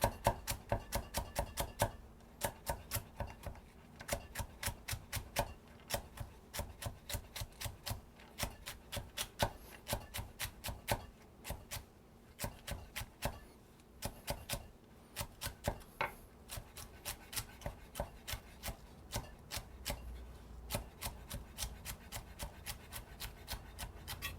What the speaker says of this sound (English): So that's one way of chopping celery.